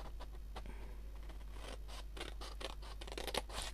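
Small squares of stamp-imitation paper snipped with scissors, a string of quick, fairly faint crisp cuts and scrapes, close by with no talking.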